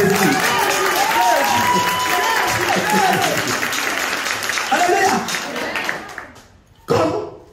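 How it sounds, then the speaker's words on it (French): A crowd at a Christian revival gathering of the Jésus Revient group in Togo claps and cheers in a loud, sustained wave, with voices rising over it, fading before a brief final burst. "Acclamons pour Jésus."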